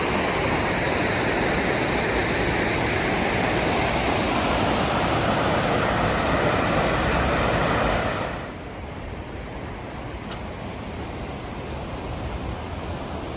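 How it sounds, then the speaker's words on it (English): The Ribnica River flowing into the Morača River beneath an old Ottoman-era bridge in Podgorica, a steady loud rush of water that drops noticeably in level partway through and continues more softly. "This is the Ribnica River flowing into the Moracha River."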